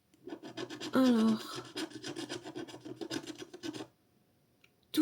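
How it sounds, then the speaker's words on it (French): A scratch-off lottery ticket being scratched with a scraper: a few seconds of close, continuous rasping strokes, briefly under a single spoken word, then quiet. "on doit gratter. Mon gratte-gratte, il est là."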